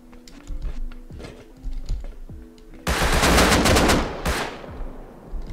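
AK rifle fire in the survival video game Rust erupts as a loud, sustained automatic burst of about a second and a half, then a short follow-up burst, after a stretch of quiet clicking keys.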